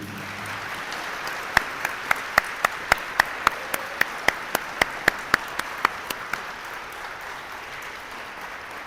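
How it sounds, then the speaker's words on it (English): Sharp, isolated claps ring out in a gym or hall at a high school jersey retirement ceremony, about twenty distinct loud hand claps in a quick rhythm over a quiet background hum. "let's give Consuela a round of applause as we begin."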